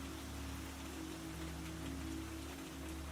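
Steady rain falls outside a quiet barn where animals are kept, a continuous soft hiss over a low constant hum, with no talking.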